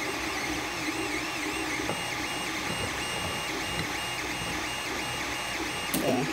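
Creality Ender 3 3D printer running with steady stepper-motor whine and whirring; its motor skips audibly, with a sharper knock near the end, continuous and close with no talk.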